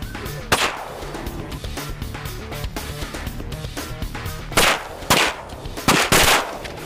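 Shotguns firing during a Texas duck hunt, several loud booming shots in a quick cluster toward the end, with ejected shells and mechanical clatter over steady outdoor background noise.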